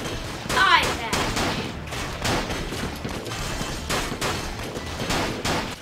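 Rapid gunfire from targets being shot in the Wii video game Big Town Shootout, a string of sharp bursty shots over a few seconds mixed with game sounds and talk.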